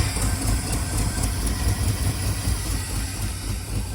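A 1978 GMC truck engine idles steadily and close by after sitting 17 years, a continuous low rumble with slight unevenness from low fuel pressure, with no talk.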